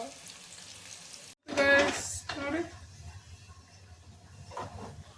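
Vada frying in hot oil, a sharp loud sizzle bursting in after a brief cutoff, then settling into a softer bubbling hiss while a person talks nearby.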